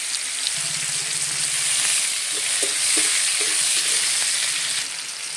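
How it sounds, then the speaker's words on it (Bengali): Chopped onion frying in oil with bay leaf and two dried red chillies, a strong steady sizzle close by with a few light stirring knocks, loud throughout. "ফোড়নে দেবো তেজপাতা আর দুটো শুকনো লঙ্কা, পেঁয়াজ কুচি দিলাম।"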